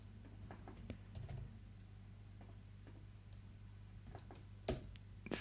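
Light, scattered keystrokes on a computer keyboard during 3D modeling in Plasticity, soft irregular clicks over a steady low hum, with a couple of louder taps near the end.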